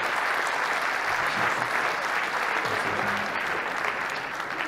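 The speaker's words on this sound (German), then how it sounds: "dann gibt es einmal noch Applaus für die Eier von der Silvi" Audience at a live comedy stand-up show breaking into loud, sustained applause, a dense even wash of clapping filling the room from start to finish.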